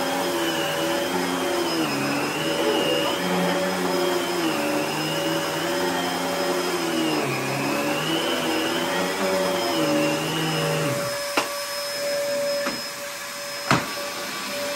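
A Bissell vacuum cleaner roars steadily with a loud, wavering motor whine, then switches off, leaving a few clunks and knocks as it is handled.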